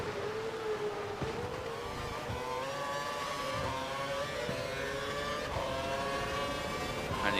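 Formula One car engine in the racing game F1 2012 at the Hungary Grand Prix, a steady high-pitched whine that rises and falls as the car brakes and accelerates, loud and continuous with no speech.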